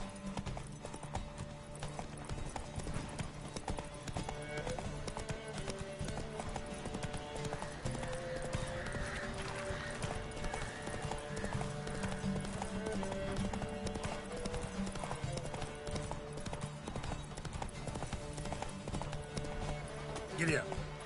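Hooves clip-clop in a fast, rhythmic gallop from a horse in The Witcher 3, steady and continuous throughout, with occasional talking and game sounds over it.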